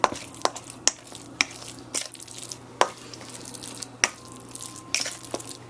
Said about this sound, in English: mix up the bacon and the onion.